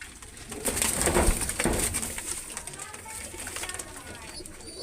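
Pigeons of imported bloodlines such as Teddy, Kamagar and Dabwal coo and rustle near the microphone through the whole stretch, with a loft's background noise and no one speaking.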